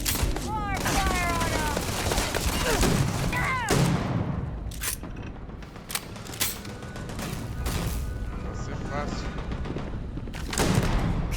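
Rapid gunfire bursts from the video game Starfield crackle loudly and almost continuously, layered with booms and mechanical clatter, with combat voices breaking through at times.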